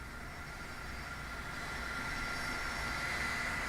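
Boeing 747 shuttle carrier aircraft with a space shuttle mounted on top flying over at Kennedy Space Center, a broad, steady jet roar that slowly swells louder as it approaches.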